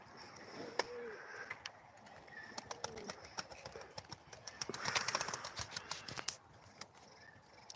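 Live pigeons at a Turkish pigeon auction, with scattered chirps and soft calls over a busy background of clicks, rustling and handling noises, moderately faint.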